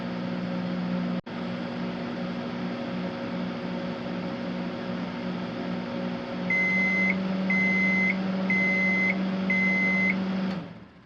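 A microwave oven runs with a steady hum and fan whir while heating a sandwich maker grill tray, then a series of four evenly spaced beeps sounds near the end before the hum stops.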